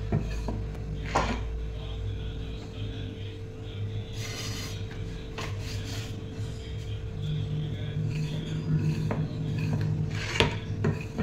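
A wooden rolling pin works chapati dough on a board, soft repeated rubbing and rasping strokes with occasional light knocks and clinks, close and steady under a low background hum.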